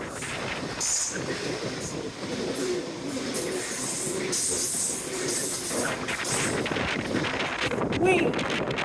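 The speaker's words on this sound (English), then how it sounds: "Hello, train." A train rumbles past nearby on the coast with steady broadband noise, buffeted by gusts of wind across the microphone; the sound stays fairly even throughout.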